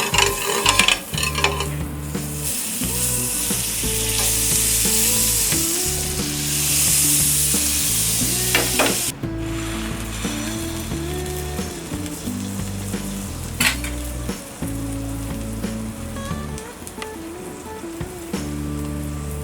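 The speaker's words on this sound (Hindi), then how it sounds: "पैन में डालेंगे हम ये बटर," Butter sizzles loudly in a hot pan for a street-style veg cheese sandwich. A continuous bright hiss is broken by spatula scrapes and knocks as the fat crackles steadily.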